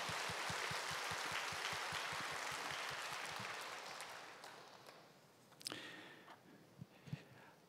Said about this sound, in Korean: 함께 박수로 환영하겠습니다.